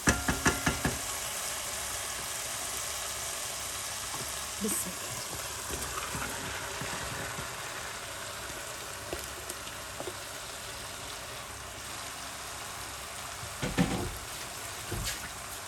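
Moringa flowers being stirred into browned meat in a cooking pot, with a few sharp knocks of a spoon against the pot at the start and later, over a steady low sizzle.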